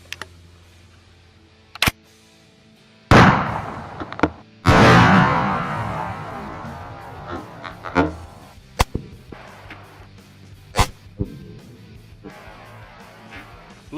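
Remington Slugger shotgun slugs fired from a Hatfield SAS shotgun at a row of milk jugs outdoors: two loud, sharp blasts a second or so apart, each with a rolling decay, followed by scattered faint clicks and handling noise.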